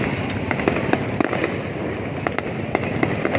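Fireworks burst high in the sky at a Lunar New Year celebration in Long Thanh, Dong Nai, with a dense series of sharp distant cracks and pops over a constant crowd-filled roar.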